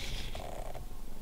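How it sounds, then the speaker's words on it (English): A house cat purrs up close, a soft continuous rumbling that runs steadily throughout with no talking. "Hello, cat."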